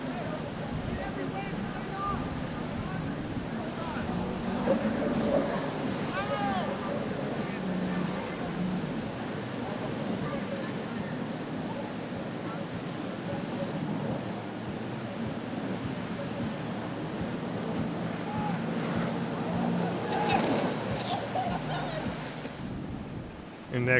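Wind and waves at the Boca Inlet heard from a boat on a windy day: steady rushing wind buffeting the microphone with waves washing around the hull, a continuous moderate roar with voices faintly in the background.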